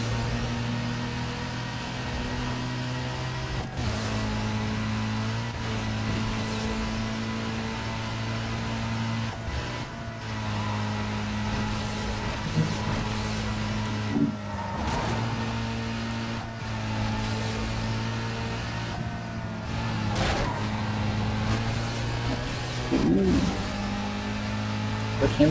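Race cars circle a two-lap circuit in the video game Need for Speed Most Wanted (2005), with a steady droning engine hum that shifts pitch at gear changes and a few brief revving swells, continuous throughout.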